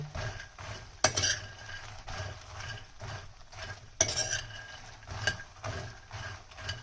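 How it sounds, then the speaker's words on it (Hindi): Makhana (fox nuts) roasting in ghee in a kadhai over a slow flame, quiet stirring with a few sharp spoon clinks against the metal pan and a faint sizzle underneath. "अब हमने मखना इसमें डाल दिए हैं और इसको हम स्लो फ्लेम पे इसको भूनेंगे"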